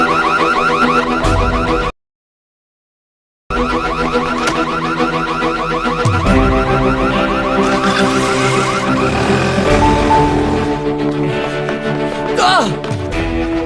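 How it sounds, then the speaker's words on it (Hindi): A house alarm rings with a loud, sustained electronic warble that pulses rapidly and drops out briefly before resuming, with people talking over it amid a dramatic scene. "घर का अलार्म है।"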